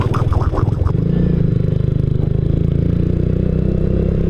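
A classic touring motorcycle cruises on roads through villages and mountains in Indonesia, its engine a loud, steady low drone with a fast pulsing beat close by, some clatter early on, and no talk.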